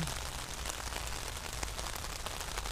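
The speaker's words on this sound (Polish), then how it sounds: "mocno pada deszcz" Heavy rain pouring in central Kutaisi, Georgia, a dense steady hiss of drops on surfaces with occasional louder pattering, close and continuous with no one talking.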